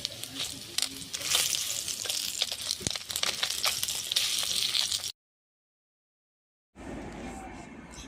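Fish from a pond shallow-frying slowly in hot oil over a low flame until crisp, a steady close crackling sizzle that runs for about five seconds, breaks off into silence, then returns more softly.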